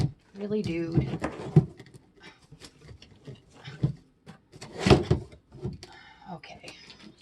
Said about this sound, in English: Okay, sorry about the noise. I'm putting my boxes back.